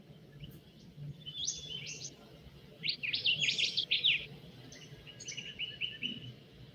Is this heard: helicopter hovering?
no